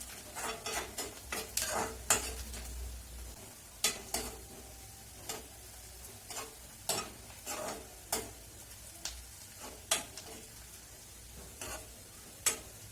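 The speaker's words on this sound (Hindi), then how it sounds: "देखिए फ्रेंड, हमारा तड़का जल के तैयार है, रेडी हो गया है।" Red chilli tadka sizzles in hot oil in a pan as methi sabji is cooked: a low, steady frying hiss broken by irregular clinks and scrapes of a spoon stirring against the metal.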